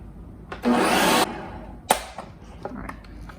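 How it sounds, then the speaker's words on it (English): Blender whirring through a sauce for a tomato sandwich, one loud burst of about half a second followed by a sharp clunk and quieter kitchen clatter. "I'm gonna blend it a little bit longer just to see if that helps it thicken up"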